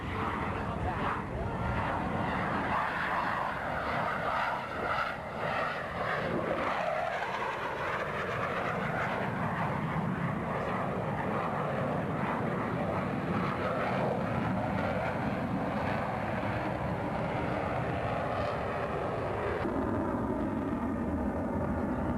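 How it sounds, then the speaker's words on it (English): A Blue Angels jet makes a fast pass at a 1991 military air show. Its loud roar swells and sweeps past, changing in pitch as it goes, over constant crowd noise and an announcer talking. "From the left, the Blue Angel, slow, fast pass."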